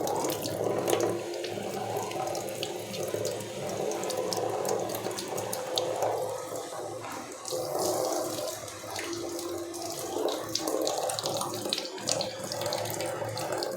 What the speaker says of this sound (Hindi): ये शावर टाइप पानी ऐसे ही आता है, बहुत स्मूथ पानी गिरता है ये